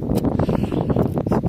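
Strong headwind on an exposed links golf course at Agon-Coutainville buffets the microphone as loud, gusty low roaring and rustling bursts that are close and continuous, with no speech.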